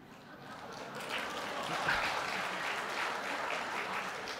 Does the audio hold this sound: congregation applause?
yes